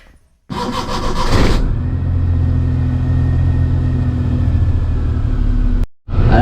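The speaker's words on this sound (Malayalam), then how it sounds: "ഞാൻ വണ്ടി എടുത്ത് ഇറങ്ങിയിട്ടുണ്ട്" A car engine starts and settles into a steady mid-pitched idle and drone as the vehicle sets off, close and continuous, then cuts out near the end.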